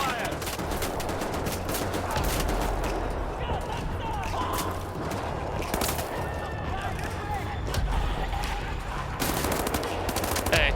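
Rapid covering gunfire in Wolfenstein: The New Order crackles continuously through the whole stretch, with dense overlapping bursts of automatic weapons and sharp single shots amid a chaotic battle.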